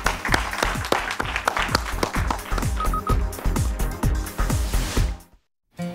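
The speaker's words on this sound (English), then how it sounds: "let's clap it up, guys" An audience at a fitness show claps in a brisk, fairly sparse burst of individual hand claps, close and distinct, before cutting abruptly to silence near the end.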